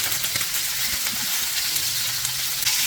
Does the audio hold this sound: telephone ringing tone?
no